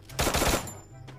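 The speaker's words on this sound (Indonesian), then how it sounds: "Oh, yang di atas nembak, guys." A short burst of rapid gunfire comes from an enemy positioned above in the Free Fire mobile game, loud and close, followed by a quieter trailing shot.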